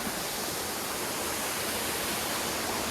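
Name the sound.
small roadside waterfall in monsoon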